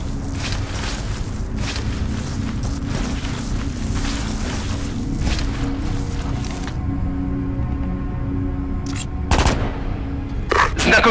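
Gunfire in the video game Ghost Recon Advanced Warfighter 2: dense, rapid automatic bursts crackle continuously for several seconds, then thin out to a few isolated loud shots over a low rumbling battlefield background.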